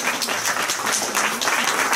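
An audience at a talk on crop circles breaks into lively applause, many hands clapping in a dense, fairly loud burst that fills the whole moment without any speech.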